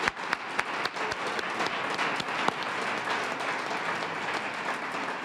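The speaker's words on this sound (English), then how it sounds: "We have a round of applause for all of this year's nominees," Audience applause at an environmental awards ceremony, steady clapping with a few sharper individual claps near the start, moderately loud and continuous for several seconds.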